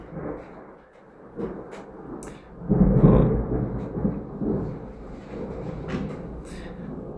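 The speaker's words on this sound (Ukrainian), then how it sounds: "Грім." Thunder rumbles through a storm, a low rolling boom swelling near the middle and fading into a long, continuous grumble with no voices.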